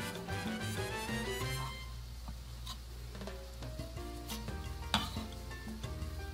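Tomato and onion sauce sizzling softly in a pan while a utensil stirs and scrapes, with light clinks against the pan and music playing underneath.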